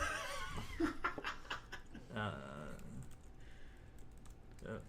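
Computer keyboard typing in short clusters of light clicks, faint under a person talking and laughing nearby.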